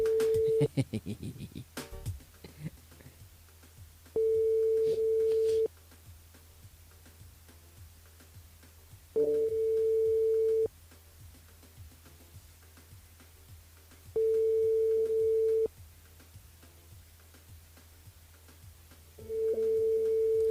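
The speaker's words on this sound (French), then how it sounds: "Ça sonne, mais ça répond pas." Telephone ringing on an unanswered call during a live radio broadcast, evenly spaced long ring tones repeating every few seconds with silence between, clear and alone.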